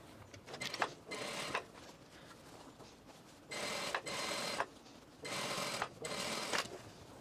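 A sewing machine back stitches along a pants pocket opening in three short, loud bursts of rapid needle chatter, separated by quieter pauses, close up and with no voices.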